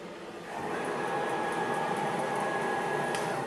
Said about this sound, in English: 500 RPM is not bad speed for running a tap on the low speed spindle